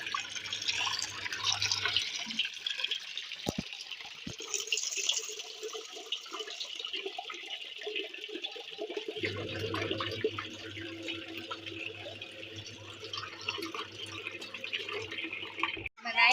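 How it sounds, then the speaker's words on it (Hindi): Clothes are washed by hand with water, giving continuous splashing and sloshing with drips, while a voice talks over it and a low hum runs through parts of the clip. "कपड़े धो रहे हैं अपनी खाला के साथ।"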